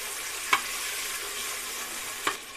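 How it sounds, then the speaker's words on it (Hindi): Chopped onion frying in oil in a pressure cooker, a steady soft sizzle with two brief louder stirring scrapes, close and continuous, no voices. "1 मिनट मैंने प्याज फ्राई किया।"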